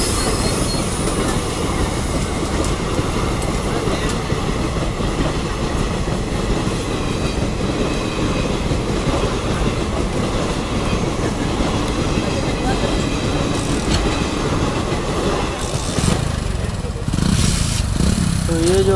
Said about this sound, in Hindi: तो ये जो है गोमो खड़गपुर ट्रेन था, ये क्रॉस हुआ।